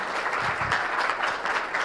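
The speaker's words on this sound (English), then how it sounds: "Let's give him a round of applause" A crowd applauds steadily, a dense patter of many hands clapping at once, moderately loud and continuous throughout.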